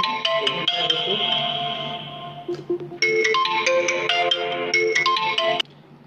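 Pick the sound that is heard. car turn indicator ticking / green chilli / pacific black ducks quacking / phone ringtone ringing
phone ringtone ringing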